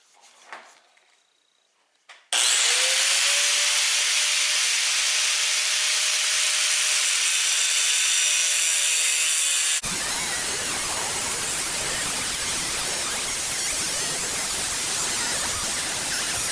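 A metal socket sleeve for a tool handle is cut with a loud, sustained hissing, grinding roar that starts abruptly after a quiet moment and runs steadily to the end, changing character partway through.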